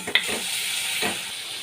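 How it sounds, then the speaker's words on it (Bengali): Spice paste with Kashmiri chili powder sizzles steadily in hot oil for a katla fish curry, with a couple of close scraping stirs over the constant frying hiss. No one speaks. "ভালো করে মশলাটাকে আমি কষিয়ে নিচ্ছি এক চামচ কাশ্মীরি লঙ্কার গুঁড়ো দিয়ে দিলাম"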